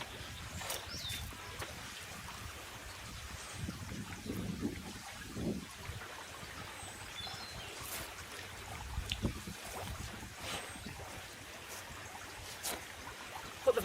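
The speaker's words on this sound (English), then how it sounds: "Fill that full of water." Water runs steadily into a koi pond feeder, a continuous trickling and splashing flow at moderate level that lasts throughout without a break.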